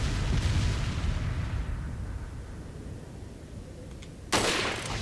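Gunfire in the Resident Evil 4 video game, with one sharp, loud broadband shot near the end following a dense rumbling stretch of gameplay noise.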